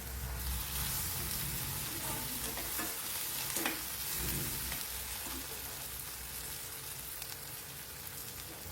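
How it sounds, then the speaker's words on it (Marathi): Coriander, tomato and onion fry in oil for a brinjal and potato curry, giving a soft, continuous sizzle broken by a few scraping stirs, fairly quiet and close. "ते कोथिंबीर, टमाटा आणि कांदा हे तेलावर छान परतून घ्यायचे अशा पद्धतीने."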